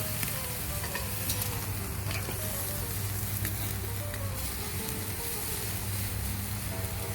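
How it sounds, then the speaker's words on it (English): Ribeye steaks sizzle steadily on a hot grill, a dense continuous crackle and hiss that stays close and even throughout, with no voices over it. "As you can see, this is a hot grill too, so we're going to have to keep these steaks moving around."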